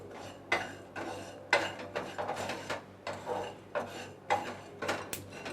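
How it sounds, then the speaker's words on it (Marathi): Spices being dry-roasted in a pan over a low gas flame, with repeated scraping and rubbing strokes of a spatula against the pan in an uneven rhythm, close and fairly quiet, with no talking. "गॅस आहे ना मसाले भाजताना आपल्याला स्लोच ठेवायचा आहे आणि सारखं आपल्याला हे मसाले परतून घ्यायचे आहेत"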